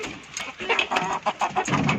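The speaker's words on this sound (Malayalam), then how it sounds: "ആർത്തിയോടുകൂടെ ഇല കഴിക്കുകയാണ്" Hens clucking as they eagerly peck at leaves, a close series of short, irregular clucks and cackles from several birds.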